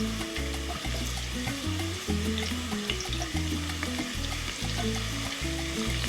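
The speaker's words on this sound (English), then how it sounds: "Hear that nice sizzle?" Shallots fry in hot oil in a pan, a continuous close sizzle broken by stirring scrapes and soft bubbling, with no voices.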